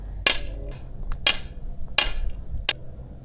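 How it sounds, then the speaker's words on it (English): A sledgehammer drives a 5-foot metal T-post into garden soil for a trellis, with four sharp metallic strikes at a steady rhythm, loud and close, with faint outdoor ambience in between. "I'm just going to use my sledgehammer"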